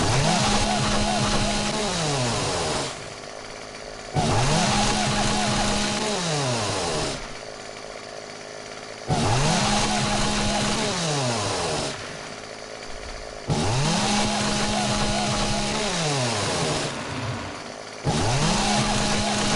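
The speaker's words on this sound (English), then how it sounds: "I've never really used the chainsaw." Chainsaw cutting trees in the video game 7 Days to Die, loud buzzing engine bursts that rev up and bog down in a repeating cycle of roughly four cuts with short idle gaps between them.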